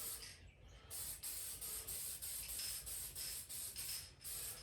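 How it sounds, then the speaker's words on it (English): Copper spray hisses from an aerosol can onto a Model A Ford head gasket in a series of short, close bursts separated by brief pauses, with no talk over it. "Just apply a little bit of copper spray on this thing"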